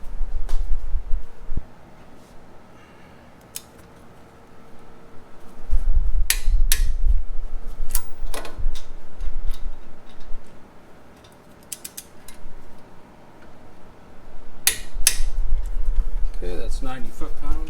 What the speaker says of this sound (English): We can torque these 2 bolts to 90 foot-pounds.